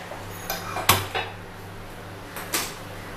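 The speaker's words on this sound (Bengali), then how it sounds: "আমি এখানে একটা প্যান বসিয়ে দিচ্ছি" A pan set down on a kitchen stove while preparing a Bengali rohu fish dish, giving a few sharp metallic clatters and clanks close by, with no talking.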